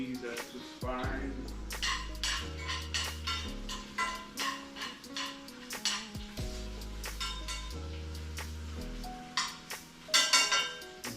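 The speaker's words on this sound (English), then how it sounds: "I need to stir them onions just a little bit." Onions being stirred in a pan with a metal utensil over a coal stove, giving a series of clinks and scrapes with cookware knocking now and then.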